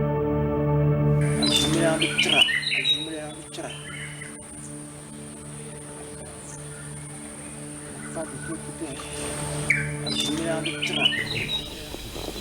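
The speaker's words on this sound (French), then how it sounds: "Là, on entend le cri du calao longiband." Long-tailed hornbill calls ring through the Hlanzoun swamp forest, a series of loud, repeated cries over a steady layered background of other forest sounds.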